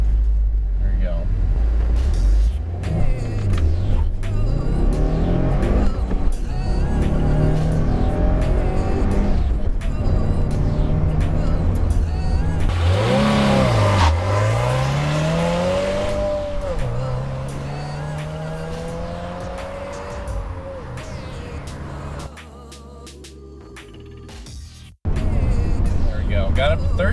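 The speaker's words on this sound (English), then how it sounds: "Got up to 3rd gear, not too bad. Car sounded good, sounded healthy." A stock Subaru WRX revs hard and climbs through the gears up to third, the engine note rising, dropping at each shift and rising again. It stays loud and close throughout, then cuts off abruptly near the end.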